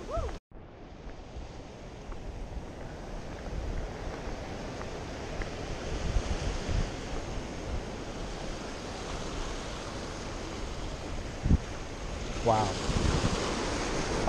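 Ocean waves wash and splash against the shore at San Pedro, a continuous close rushing roar with wind buffeting the microphone and a brief surge of spray near the end.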